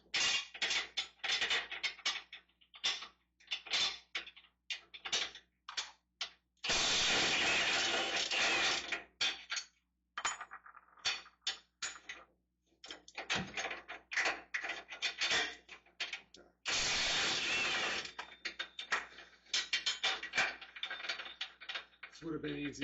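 A ratchet wrench turning bolts on a Nissan Frontier engine during an engine and clutch replacement: bursts of close metallic clicking and ratcheting, broken by pauses and two longer, louder grinding spells, with no talk.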